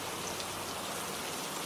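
Rain falling steadily at night, a dense even hiss of drops spread across the whole clip, with no other sounds.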